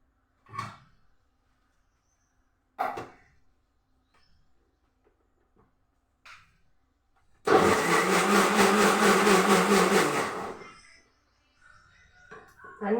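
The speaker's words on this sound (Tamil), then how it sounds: "இப்போது இதை வந்து மிக்சியில் போட்டு வச்சு அரைச்சிக்குவோம்" A kitchen mixer grinder whirs loudly for about three seconds while grinding ingredients for an eggplant curry, starting and stopping abruptly. Brief clatters and short spoken bits come before and after it.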